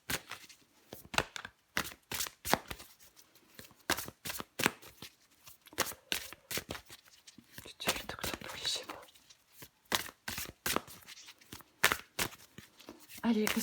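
Tarot cards are shuffled and handled in quick bursts of crisp riffling and slapping, close and fairly quiet, with soft whispery speech in between.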